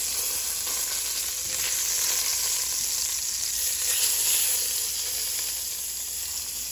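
Short ribs searing in hot fat in a pot for red wine braise, giving a loud, continuous, close sizzle and crackling spatter with no talk over it.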